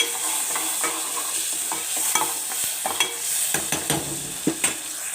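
Cooking tomatoes with salt, chaat masala and mint for Sindhi biryani are stirred in a pan: a constant soft sizzle broken by repeated sharp spoon scrapes and taps.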